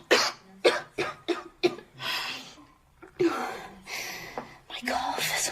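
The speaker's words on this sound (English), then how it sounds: "My cough is so much worse than usual." Repeated harsh coughs from a woman on a cold winter night, several sharp bursts in the first two seconds followed by longer rough, breathy coughing fits, close and fairly loud with no talking.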